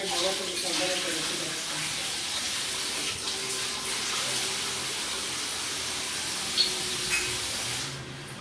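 Water pours and splashes steadily during a home abhishekam ritual, a continuous hissing wash that runs for several seconds with a soft voice faintly underneath.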